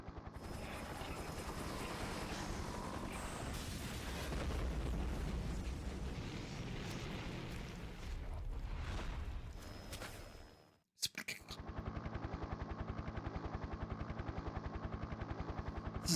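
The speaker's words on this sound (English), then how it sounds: "Just fire the missile, Aya." Missile launch and explosion in the video game Parasite Eve: a long roaring rush with deep rumbling blasts that swells and then cuts off abruptly, followed after a brief gap by a steady mechanical thrumming drone.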